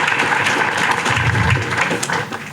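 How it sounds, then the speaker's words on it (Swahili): An audience applauds a regional commissioner at a gathering of new employees in Iringa, a steady wash of clapping that fills the whole short stretch at moderate loudness. "naomba turudie kumpigia makofi mkuu wa mkoa"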